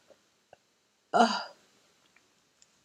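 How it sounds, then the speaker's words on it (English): A single short, throaty burp bursts out, loud and close, between scattered faint clicks and near-silence. "I just burped, and like the burrito that I had this morning came back up"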